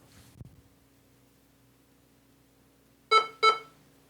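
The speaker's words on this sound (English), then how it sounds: "you're going to get this annoying beep" Two short, sharp computer beeps sound in quick succession during a Debian 12 installation, loud against a faint hum, following a soft click earlier.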